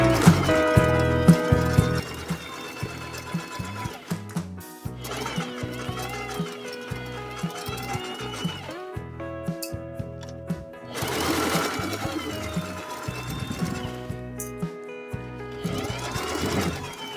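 A home sewing machine stitching a pocket flap on a cargo mini skirt runs in bursts, humming steadily with brief pauses and restarts for back stitching.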